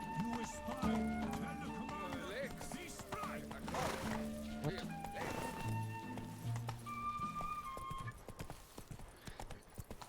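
Roach, a horse in The Witcher 3: Blood and Wine, clip-clops along with steady hoofbeats and an occasional whinny over game music and ambience, while someone speaks to the horse.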